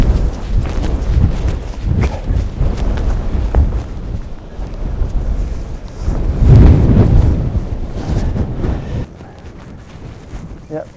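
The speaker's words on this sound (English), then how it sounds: "it's blowing all the heat out of my body this wind" Strong wind gusts across an exposed hilltop ahead of a storm, a constant loud buffeting roar against the microphone that surges heavily midway, with no voices heard.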